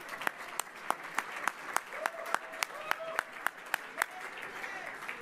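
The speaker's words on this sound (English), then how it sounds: "I think we need to give her a big round of applause." A conference audience at a leadership institute gives a round of applause, loud dense clapping close by with a few sharp individual claps standing out.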